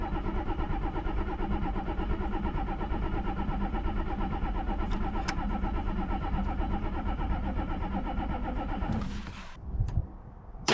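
A Ford 6.9 IDI turbo diesel runs with a steady, loud rhythmic clatter heard from the cab, then cuts off abruptly near the end with a brief clunk.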